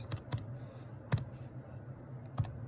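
A few sharp, separate button taps on a calculator, close and fairly quiet, spaced unevenly over a soft background hum.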